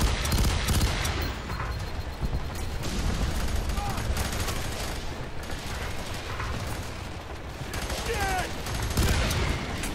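Dense, continuous automatic gunfire and impacts fill the shooter game F.E.A.R. 3 during a fight in a port, loud and rapid with brief lulls and some mechanical clatter, with voices mixed in.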